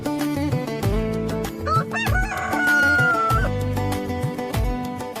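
A rooster crows through a long drawn-out call, set against loud music with a rhythmic beat and steady tones.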